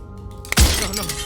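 A sudden loud shatter from the video game Slay The Princess, one sharp crack followed by a heavy breaking crash and a ringing, crumbling tail.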